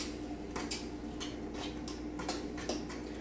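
A spoon stirs instant oats for a backcountry breakfast, giving close, repeated scraping clinks against the pot roughly every half second over a steady low background hiss.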